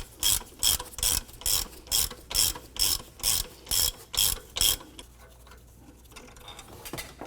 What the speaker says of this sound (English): Using a 15 millimeter socket and ratchet, go ahead and remove this alternator bolt.